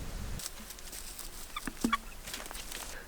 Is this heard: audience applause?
no